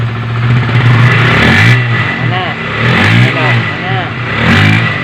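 Honda CB150R motorcycle engine, old type, revved up close in a workshop, with repeated rising and falling throttle blips under people talking.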